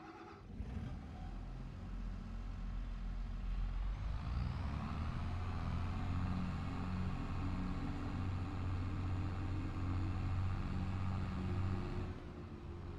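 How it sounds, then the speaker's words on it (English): A tractor engine in Farming Simulator 22 drones steadily with a low rumble, revving up after a few seconds and holding a constant loud hum throughout, with no talking. "it's good to get back behind the wheel of the tractor"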